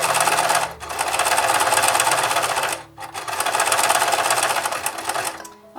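A sewing machine stitching a heart shape, fast rapid mechanical whirring in bursts with brief pauses as the fabric is lifted and adjusted, close and loud.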